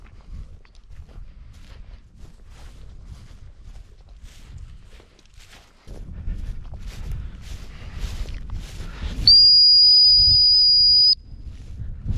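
A single long, steady high whistle to a flushing dog on a pheasant hunt holds for about two seconds over outdoor rustling and footsteps.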